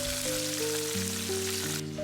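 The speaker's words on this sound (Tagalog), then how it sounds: "Habang nagpiprito nga ako" Steady hissing sizzle of tuna frying in a pan, continuous and close, with a low musical tone running underneath throughout.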